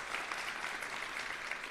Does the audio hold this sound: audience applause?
yes